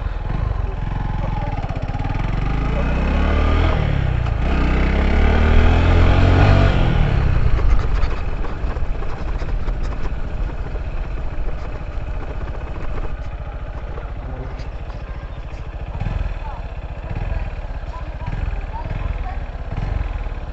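A Runner Bolt 165r motorcycle rides across a dirt field at a camping event, its engine revving up and then easing to a steady mid-pitched drone, with people talking over it.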